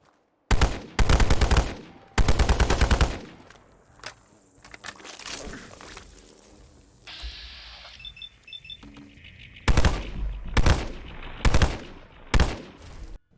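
AN94 assault rifle from a Fallout 4 mod fires in the game: loud, sharp bursts of automatic fire come in several rapid strings, with quieter mechanical clicks and handling noises between them.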